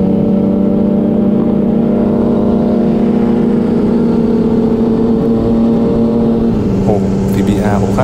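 A Yamaha MT-09 motorcycle holds a loud, steady high rev, close up, as its rear wheel spins, with a pitch shift near the end and voices talking over the engine.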